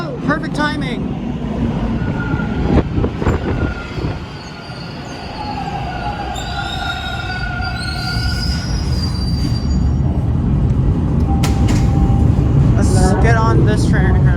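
Toronto TTC subway train arriving at a Line 2 station, loud rumbling wheels with long high squeals and screeches as it brakes close by, steady roar building toward the end, with a voice talking over it.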